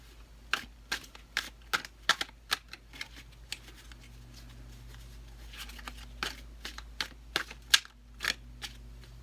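Tarot cards are shuffled close by in quick bursts of sharp riffling clicks, with a short quiet pause midway and a low steady hum underneath.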